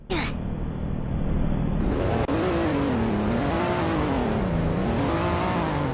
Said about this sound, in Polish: Dźwięki, no oczywiście silnika.